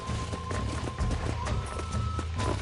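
A horse gallops in the video game Red Dead Redemption, with a quick run of hoofbeats at close range over a constant game ambience and a faint steady tone, and no speech.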